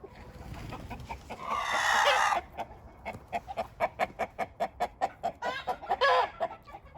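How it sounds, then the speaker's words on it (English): Backyard chickens in a pen erupt in a loud, flapping squawking burst, then settle into a rapid, rhythmic run of clucks with another brief squawk near the end. "There's some chicken yard drama. I don't know what happened. Somebody flew and it caused a ruckus."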